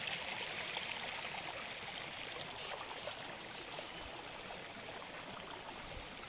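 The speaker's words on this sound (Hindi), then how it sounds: "नदी की धारा।" A river stream flows in a soft, continuous rushing wash, steady and fairly faint throughout with no voices.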